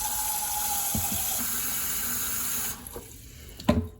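Tap water runs into a pot in a kitchen sink to fill it for pasta, a steady close stream that stops near the end, followed by a few clanks of the pot.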